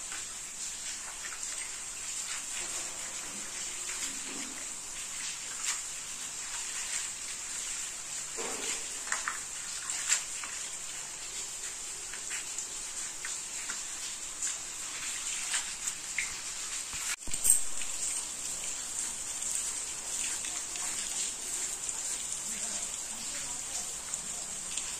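Steady rain falls, a dense continuous hiss that holds evenly throughout, with faint scattered background sounds and no clear talk.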